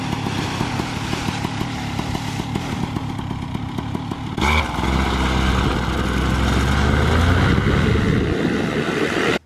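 Paramotor engine opened to full throttle for a takeoff run near trees, a loud buzzing two-stroke drone that swells sharply midway and holds a heavy, steady roar, close by with no voices.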